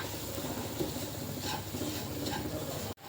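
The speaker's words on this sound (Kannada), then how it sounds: "ಇದೇ ತುಪ್ಪಕ್ಕೆ ನಾನು ರವೆ ಹಾಕ್ಕೊಳ್ತೀನಿ. ಇದು ಚಿರೋಟಿ ರವೆ." Chiroti semolina roasting in ghee is stirred steadily in a pan, a soft continuous sizzle with faint scraping strokes, ending in a brief sharp knock.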